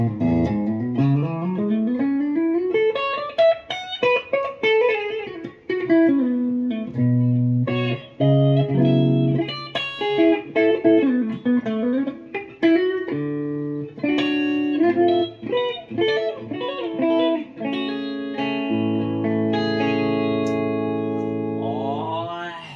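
A Gibson Les Paul Tribute 2017 electric guitar played through a Boss ME-80 multi-effects unit with a distorted, chorus-tinged tone, continuous melodic lines and sustained chords ringing loud and close with no talk.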